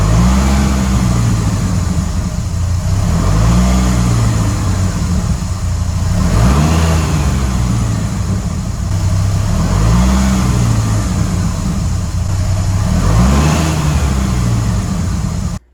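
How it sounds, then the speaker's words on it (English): A Dodge Viper accelerating hard through all six gears, a loud, close engine roar rising in pitch again and again with a brief drop at each shift, ending abruptly. "I went ahead and I accelerated first, through second, through third, through fourth, through fifth and sixth"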